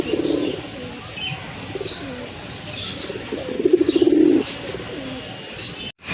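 A large male pigeon coos in low, throaty bursts, two or three rolling bouts close by over a soft background hum, with no voices.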